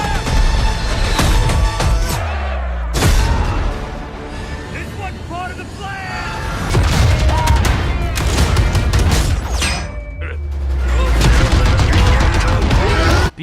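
Battle sounds from World War era console war games, with dense bursts of gunfire, booming explosions and crashing debris layered over a loud, continuous battlefield roar, with a voice talking over it.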